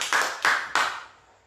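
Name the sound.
audience applause in church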